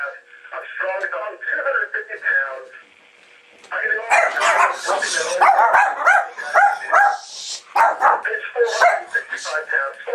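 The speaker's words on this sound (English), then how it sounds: "Daniel Weeds got the dogs all stirred up" Several dogs bark in excited, repeated bursts, loud and close, mixed with people talking over a radio broadcast.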